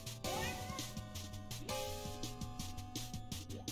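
Cats meow in the video game Ikenfell, rising and falling cries over a bouncy, rhythmic game-music bed with steady low beats, all fairly close and clear.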